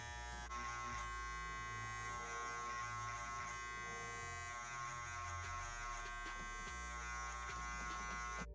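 An Andis T-Outliner trimmer fitted with ceramic blades runs nearby with a steady, high electric buzz, its pitch wavering slightly as it moves against a beard, with no talking.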